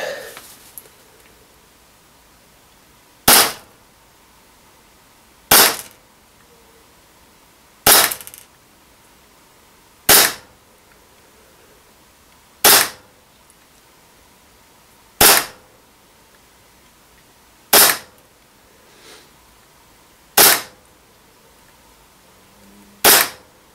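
A WE DP17 gas airsoft pistol fires 0.2 g BBs from a cold, freshly gassed magazine in a chrono and accuracy test. Nine sharp, loud single cracks come at evenly spaced intervals of about two and a half seconds, with quiet between them.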